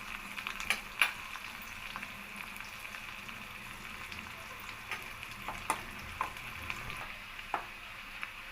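Cumin seeds fry in hot oil for a drumstick-leaf dal tempering, giving a soft, continuous sizzle with scattered sharp pops and crackles heard close by and fairly quiet.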